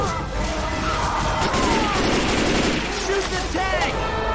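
Gunfire in the zombie shooter Left 4 Dead 2, a dense, loud barrage of overlapping shots and bursts running continuously, with voices talking over the action.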